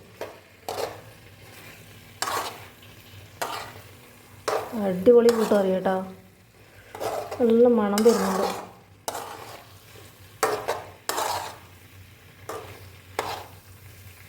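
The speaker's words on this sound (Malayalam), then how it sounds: "ഇളക്കി അങ്ങോട്ട് യോജിപ്പിച്ച് കൊടുക്കുക" Chembu koottukari with roasted coconut being stirred in a pan: a steady run of close scraping, clinking stirs with a soft sizzle beneath, broken midway by two short stretches of talk.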